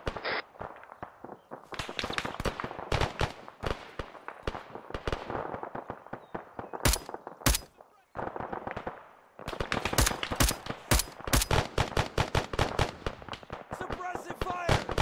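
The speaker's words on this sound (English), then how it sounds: "Suppressive fire" Suppressive gunfire in an Arma 3 counterinsurgency mission: dense bursts of rapid automatic fire with brief pauses, loud and close, with a voice speaking at points.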